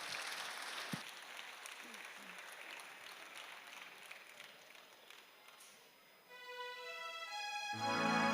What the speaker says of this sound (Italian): l'applauso forte glielo concediamo una seconda volta